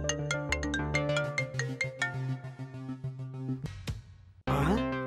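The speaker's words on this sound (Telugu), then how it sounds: "ధనా గారు, ఫోను ఎత్తరేటి?" A phone rings with a bright melodic ringtone that plays a repeating tune for about four seconds, loud and close, then cuts off.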